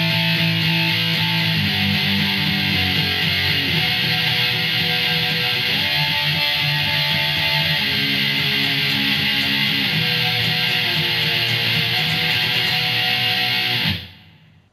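Distorted electric guitar plays a riff, thick sustained power chords shifting in a steady pattern, loud and alone, then cutting off abruptly at the end.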